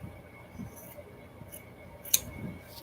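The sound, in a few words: scissors cutting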